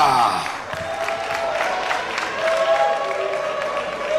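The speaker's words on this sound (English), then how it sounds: "we'd like to ask you to give both of our fighters a round of applause" A crowd at a men's fight event applauds and cheers for both fighters, a steady wash of clapping and crowd noise throughout.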